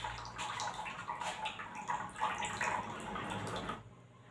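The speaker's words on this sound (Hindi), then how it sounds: "देखिए बोतल से पानी निकलने लगा, देखिए देखिए इस तरह से पानी निकल रहा" Water flowing out of a plastic bottle fitted with a balloon, a steady close splashing, trickling stream that runs continuously before cutting off near the end.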